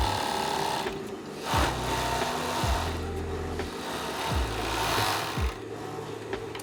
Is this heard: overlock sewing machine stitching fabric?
yes